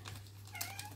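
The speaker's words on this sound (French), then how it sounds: "il y a mon chat qui m'appelle" A house cat gives a short, faint meow indoors beside a low steady hum, with light tapping clicks in the background.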